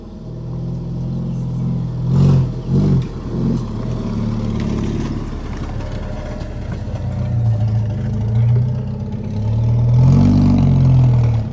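A Jeep Wrangler engine runs nearby in a low, rumbling idle, briefly revving and clattering early and again near the end.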